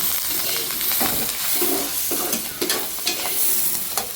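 Onion, green chilli and curry leaves are stir-fried in a pan over flaring flames, Chinese style, with a steady sizzle broken by repeated scraping and tossing strokes roughly every half second, close and clear, without voices.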